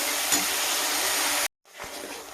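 Ground cumin, turmeric and chilli powder fry in hot oil for a fish curry, making a loud, steady close-up sizzle that cuts out briefly and then returns softer.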